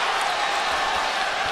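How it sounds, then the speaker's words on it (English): Arena crowd at a Golovkin vs Derevyanchenko boxing bout, a steady, loud roar of cheering voices sustained throughout with no individual words standing out. "The crowd is behind Golovkin."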